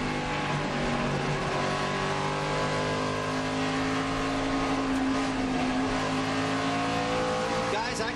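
NASCAR Nationwide Series race car at Iowa, heard from onboard: a loud, steady engine drone held near full throttle throughout, with a voice talking faintly underneath.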